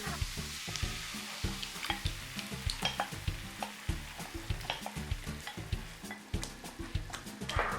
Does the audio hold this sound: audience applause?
no